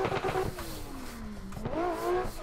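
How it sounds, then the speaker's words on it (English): A street car engine in Assetto Corsa screams toward redline and then drops as it shifts, after which a rising rev climbs again, loud and continuous without any talking. "This car just sounds real good on red line."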